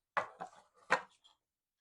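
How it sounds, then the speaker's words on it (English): A few short, dry crunching strokes as popcorn seasoning is ground by hand, three or four close, distinct bursts with brief pauses, ending in quiet. "We're going to continue to grind this up."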